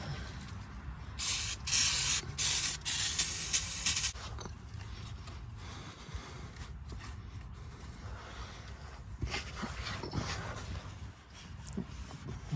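Cleaner sprays in several loud, close hissing bursts onto a Subaru Impreza CVT transmission, followed by quieter rubbing and handling sounds.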